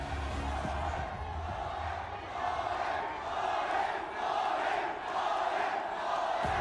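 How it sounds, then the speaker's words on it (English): An esports arena crowd at a Mobile Legends MSC grand final chants together in a steady, pulsing rhythm, a dense roar of many voices that swells in regular beats from a distance. "The crowd has chanted."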